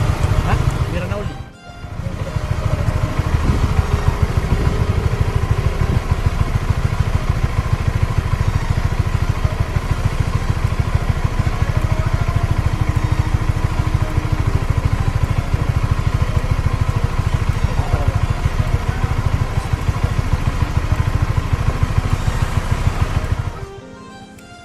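A motorcycle engine runs steadily and loud for over twenty seconds as it drives onto a ferry, with clattering and people talking nearby, ending abruptly.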